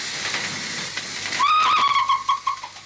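Near the end of a steam-era trip, a steam locomotive lets out a loud, close hiss of escaping steam. A whistle-like tone rises partway through before the sound fades in uneven puffs.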